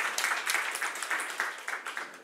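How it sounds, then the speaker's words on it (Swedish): Seated audience at a Swedish 2018 election debate on education gives a brief round of applause, a dense, fairly faint patter of many hands with no talking over it. "Då tänkte jag be en applåd,"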